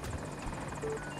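AH-64 Apache attack helicopter in Battlefield 2042 on the Hourglass map, a steady close rotor thrum and whine held at even loudness throughout, with no talk.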